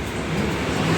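Dense road traffic hums and rumbles in a continuous, fairly loud wash of engines and tires, heard nearby with no clear voices over it.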